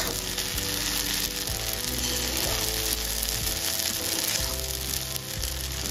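Pasta fries in a pan at home with a continuous loud sizzle, punctuated by occasional stirring scrapes and no voices.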